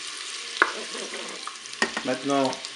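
Duck breast and honey being stirred in a Cookeo pot: a soft sizzle with a sharp utensil knock and scrapes against the bowl, close by, and a voice briefly speaking over it.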